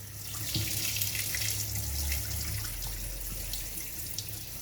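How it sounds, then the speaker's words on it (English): Water is drained off boiled onions at a campfire cooking setup for cochinita pibil, a continuous pouring splash with a low background rumble and no speech. "draining the water of the onions"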